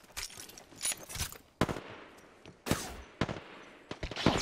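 Gunshots in the Apex Legends battle royale game: several sharp bursts of automatic fire arrive in irregular clusters, loud and close, separated by short gaps of quieter background, with no speech over them.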